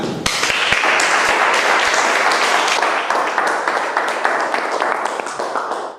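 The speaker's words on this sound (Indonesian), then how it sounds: "Mohon untuk teman-teman bagi berdiri bersama beliau dengan tepuk tangan." A standing audience at an Indonesian business presentation breaks into loud, close applause for an honored engineer guest, starting with a few sharp claps that swell into a dense, continuous roar of hands, with some voices mixed in.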